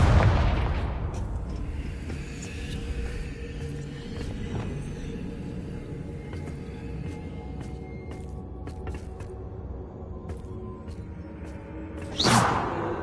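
Confringo blasting curse explosions in the video game Hogwarts Legacy: a loud blast opens, then a rumbling, crackling fire bed with scattered sharp bursts, and a second whooshing blast near the end.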